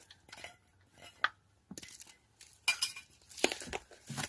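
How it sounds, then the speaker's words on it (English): Lug nuts come off a car wheel during a flat tire change, with scattered metallic clinks and rattles in short irregular bursts, close and fairly quiet, with no talk. "you're going to want to remove your lug nuts"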